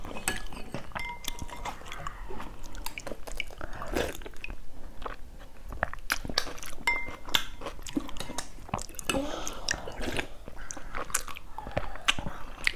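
A child eats a bowl of bánh canh gà, chicken noodle soup, with close, soft chewing and biting sounds and scattered light clinks of a spoon against the bowl.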